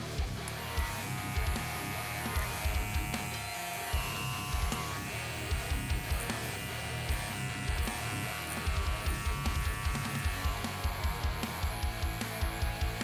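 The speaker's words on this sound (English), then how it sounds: "I'm gonna go in with my clipper open," Electric hair clipper buzzing steadily while fading hair at a barbershop, worked open with a zero guard, close and continuous with rhythmic pulses as it sweeps through the hair.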